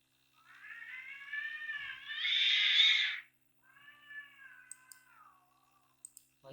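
A cat meowing loudly and insistently nearby, two long drawn-out wailing meows in succession with a few faint clicks afterward.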